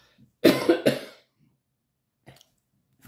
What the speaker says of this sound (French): Il faut bien que je tousse un coup avant de vous parler.